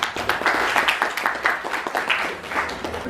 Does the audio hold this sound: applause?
yes